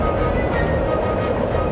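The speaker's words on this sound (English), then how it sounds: "And suddenly, a big wind blew." Strong wind roars with rough surging water, steady and loud throughout, as a storm effect for a children's story about a boat caught on a lake.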